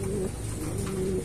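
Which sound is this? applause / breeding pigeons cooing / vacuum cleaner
breeding pigeons cooing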